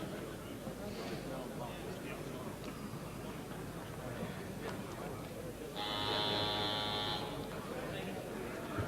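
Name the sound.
ten-second buzzer at a boxing match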